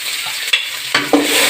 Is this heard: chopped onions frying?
yes